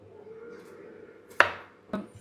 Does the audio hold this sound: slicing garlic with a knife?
yes